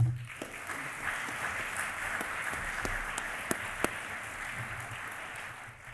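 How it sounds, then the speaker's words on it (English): Sustained audience applause at a workshop feedback session, a soft, even wash of many hands clapping at a distance with a few sharper individual claps standing out near the end. "Can we just have another round of applause, please, for everyone who came up and presented?"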